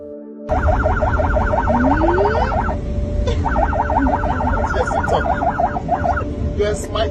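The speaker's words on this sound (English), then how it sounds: "Ambulance is here! Ambulance is right" A newly donated ambulance sounds its siren at a children's hospital event, a loud wailing tone cycling rapidly in two bursts with a short pause between, close and dominant, with voices faintly underneath.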